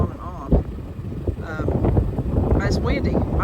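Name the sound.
wind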